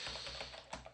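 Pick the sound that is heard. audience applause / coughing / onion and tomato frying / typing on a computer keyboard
typing on a computer keyboard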